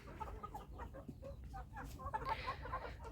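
Faverolles hens cluck softly nearby in short, uneven bursts over a low background rumble, with no talking.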